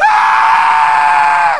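One loud, high scream of fright from a comedy skit, held steady for over a second and a half before it trails off at the end.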